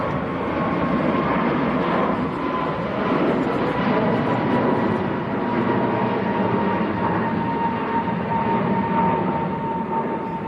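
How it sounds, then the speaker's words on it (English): An Aer Lingus Airbus A321neo takes off at an airport, a loud, continuous broadband engine roar that holds steady throughout, heard from nearby with no talking. "Aer Lingus just getting airborne. This is one we don't see very often. A321 Neo, nice, going up like a rocket."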